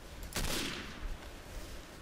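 Gunfire and explosions in the World War II shooter game Day of Defeat: a loud, sharp burst of blasts and rapid shots, followed by a sustained rumbling barrage of battle noise.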